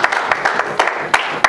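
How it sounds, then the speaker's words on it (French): A church congregation applauds in a short, uneven patter of claps, fairly close and steady for under two seconds. "Acclamons pour la parole de Dieu."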